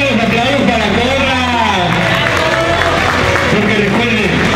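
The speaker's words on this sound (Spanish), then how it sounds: "¡Los aplausos para Corra!" An audience at a cosplay event applauds and cheers, a loud, continuous wash of clapping and crowd noise with a voice calling out over it.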